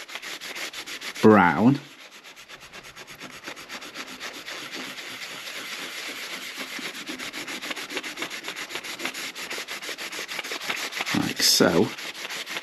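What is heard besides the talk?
gently rubbing down a marine boat dashboard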